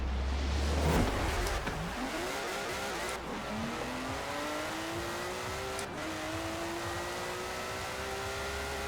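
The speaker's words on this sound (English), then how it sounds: "Man, watching this thing accelerate is mad." A twin-turbo classic Porsche in Forza Horizon 4 accelerating hard, its engine note climbing through several gear changes with rising whines and brief dips at each shift, loud and continuous.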